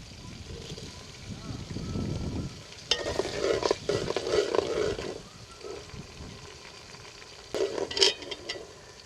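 Ingredients for kadhi pakora are sautéed in a pan, with a soft sizzle and bursts of scraping and stirring rising and falling close by.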